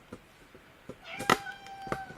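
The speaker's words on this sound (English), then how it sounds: "Baz, meow" A cat meows once, close by, in a short drawn-out tone, followed by a softer second call, with faint clicks and handling noise around it in a quiet workshop.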